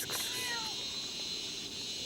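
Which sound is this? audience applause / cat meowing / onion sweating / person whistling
cat meowing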